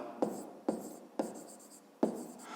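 Pen scratches on paper as a maths exercise is worked out by hand, four short strokes in quick succession, faint and close, with no voice over them.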